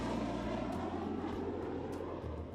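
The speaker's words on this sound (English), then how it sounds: "practiced touching down at Kennedy's shuttle landing facility using the shuttle training aircraft to simulate the shuttle's unique characteristics" The Shuttle Training Aircraft flies over Kennedy's shuttle landing facility, making a steady, broad engine roar with a low droning hum that holds at an even, fairly faint level.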